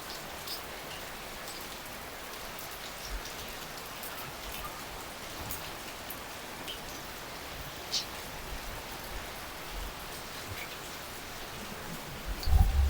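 Steady rain falls outdoors, a constant soft hiss with scattered drops, moderate and close, with a small thump near the end.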